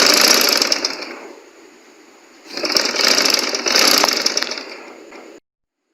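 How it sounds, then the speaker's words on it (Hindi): Sewing machine running in two bursts while double-stitching a cuff onto a kameez sleeve, a steady close whirring that pauses briefly in the middle before resuming, with no talking. "यहाँ पर डबल सिलाई लगा लेंगे"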